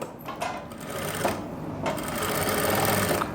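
A sewing machine runs in short bursts and then continuous stitching as a half-inch seam is sewn on the inside of trouser fabric, a close mechanical whirr with a rapid needle rhythm.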